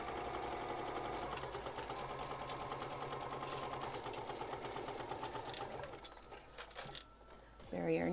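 A sewing machine stitches a travel bag with a rapid, steady mechanical chatter that slows and breaks up toward the end. A voice talks over it at a low level.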